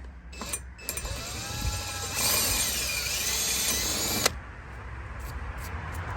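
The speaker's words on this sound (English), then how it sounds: "now I'm gonna have to very carefully just drill in the center" A power drill bores into the center of a stripped exhaust manifold nut on a Mercedes, whining loudly for about three seconds after a couple of brief starts, then cutting off sharply.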